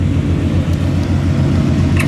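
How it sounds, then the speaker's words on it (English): A 1971 Oldsmobile Cutlass convertible idles steadily, its engine giving a smooth, low rumble through the dual exhaust, close and continuous with no talking. "the engine runs smooth, it has a nice sound coming out the dual exhaust"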